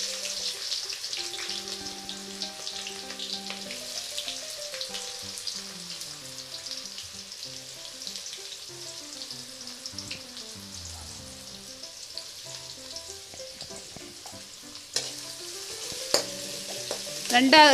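Onions sizzling and crackling in a pan of oil with cinnamon and fennel seeds, a continuous frying hiss with faint stirring clinks near the end.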